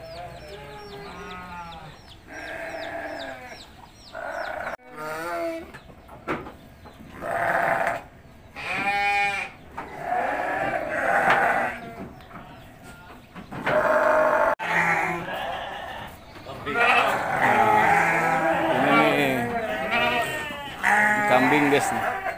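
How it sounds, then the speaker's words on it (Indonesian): Goats bleating in a livestock pen at a farm near Bandung, repeated wavering cries from several animals, some close and loud, mixed with people talking and occasional fowl calls. "Ini kambing."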